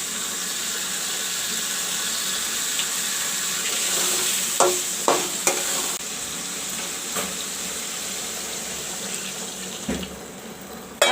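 Masala with tomato and fried potatoes frying in a pan, a steady sizzle with a few scrapes and clinks of stirring throughout.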